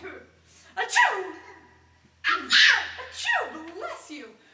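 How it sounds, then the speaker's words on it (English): A child sneezes loudly twice during a playful superhero game at a live Brown County, Indiana event, each sharp burst followed by breathy vocal sounds, with voices joining in. "Achoo! Bless you!"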